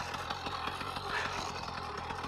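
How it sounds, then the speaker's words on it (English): A small two-stroke engine from eBay bolted to an old bicycle runs with a rapid, rattling buzz while the bike rolls downhill, steady and close without any talk. "since I can just drag the engine down a hill with me, it starts up almost every time."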